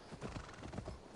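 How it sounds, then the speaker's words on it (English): A horse trots in a video game, its hooves clip-clopping in a quick, even rhythm. The hoofbeats are faint and continuous, with no voices over them. "Let's call the horse."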